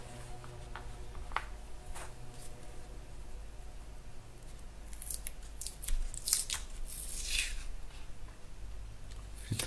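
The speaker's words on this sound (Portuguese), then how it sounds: "a colocar um bocadinho de fita cola aqui na broca com este comprimento" Painter's tape is handled and wrapped onto a drill bit, giving faint crinkling and snipping sounds with a cluster of sharper crackles toward the end, over a low steady hum.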